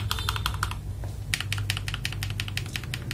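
Mechanical keyboard typing on an FL Esports MK870 fitted with AKKO Silver switches and Mario keycaps, a quick run of crisp, bright keystrokes close up, a brief pause, then another fast rhythmic run over a low background hum.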